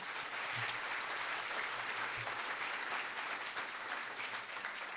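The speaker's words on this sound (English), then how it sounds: "So give another round of applause for the sponsors of tonight's event, please." An audience at a Broadway benefit event gives continuous applause for the sponsors, a full, even roar of clapping hands lasting throughout.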